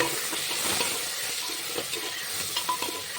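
Potatoes and peas with coriander sizzle in a pan as they are fried, a steady bright hiss with occasional stirring scrapes, close and continuous with no talking.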